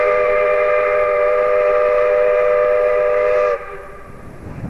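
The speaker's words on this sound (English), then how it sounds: "the South Australian steam train is just arriving here now" South Australian Railways steam locomotive 621 sounds a long, loud, steady chime whistle for several seconds as it arrives at Tailem Bend station in 1994, then the whistle cuts off, leaving a low rumble.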